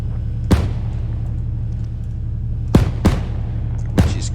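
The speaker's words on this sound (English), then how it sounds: "impacting from a HE cannon. This is a 20 mil Bushmaster gun. You'll see the explosions" Four sharp impacts from a 20mm Bushmaster HE cannon in Arma 3 strike one after another, the first alone and three clustered later, each a crisp crack with a brief rumbling tail over a low steady drone.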